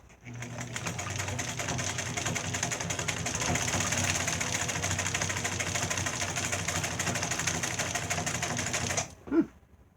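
A Singer 206 sewing machine stitching zigzag, a fast, loud, steady mechanical whir with rapid rhythmic needle clatter running for about nine seconds before stopping with a brief thump.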